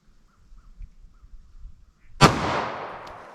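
A 9mm semi-automatic pistol fires one sharp, loud shot that rings out and decays, preceded by a couple of seconds of quiet handling and rustling.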